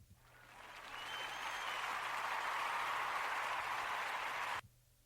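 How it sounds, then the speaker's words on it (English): Steady applause swells in over the first second, holds as a dense, fairly distant wash of clapping, then cuts off abruptly near the end. "Yeah, clap it up."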